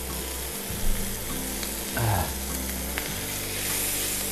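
Noodles for teriyaki salmon noodles sizzle steadily in a hot stir-fry pan, a continuous loud frying hiss with brief stirring scrapes and clatters partway through.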